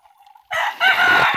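A rooster crows once, loud and close, a harsh drawn-out call that cuts in abruptly after a moment of faint background.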